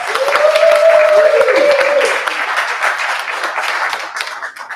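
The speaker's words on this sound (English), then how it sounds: "So give a round of applause for the Sparrow, please." A live podcast stage audience applauds a guest, with a bright whistle cutting through near the start, the clapping strong and close at first, then easing and thinning toward the end.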